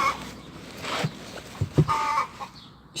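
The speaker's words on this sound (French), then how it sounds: "Donc mes poules, c'est des nègres de soie." Silkie hens in a garden give short, scattered clucks and a few brief calls, close by against quiet outdoor background.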